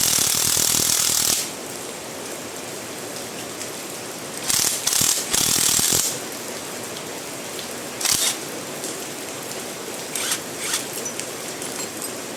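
A 12mm wrench or socket ratchets on the rear sprocket bolts of a Yamaha Sniper 155 motorcycle's pro arm, with a long buzzing ratchet run and then several short clicking bursts, close up with no talk.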